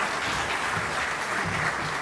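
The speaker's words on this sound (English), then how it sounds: "A round of applause for Ms." An audience at a Caribbean broadcasting awards and hall of fame ceremony claps steadily, an even wash of many hands lasting the whole moment without speech.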